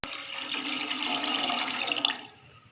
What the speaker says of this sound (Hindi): पैन के अंदर ये मैं 5 कप पानी डाल रही हूँ।